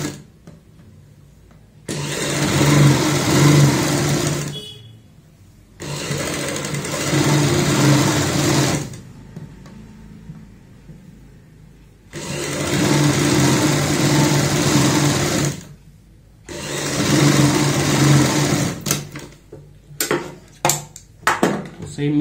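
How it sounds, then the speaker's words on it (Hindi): A sewing machine stitching a kurti runs in four loud, close bursts of fast, rhythmic needle clatter, each a few seconds long, separated by short silences, with a few faint handling clicks at the end. "पे ऊपर से सिलाई लगाएंगे इस पैर चौड़ाई वाली।"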